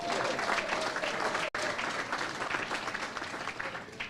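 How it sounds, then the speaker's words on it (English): Audience applause at a political party chapter launch event, sustained dense clapping from a sizable crowd, with a brief dropout partway through and faint voices beneath. "Give that a round of applause."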